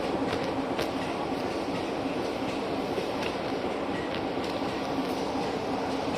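A diesel train at the East Lancashire Railway rumbles past, a steady and moderately loud rolling drone with faint rhythmic clicks from the wheels on the track.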